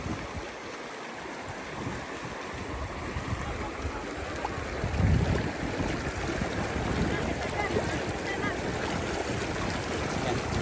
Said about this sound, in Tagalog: lakas pala ng agos dito